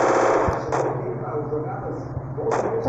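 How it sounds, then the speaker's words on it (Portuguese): Rapid bursts of gunfire ring out in the battle-royale video game Free Fire, sharp automatic cracks repeating in short volleys amid in-game sounds, with a player talking over the action. "Estão atirando nele."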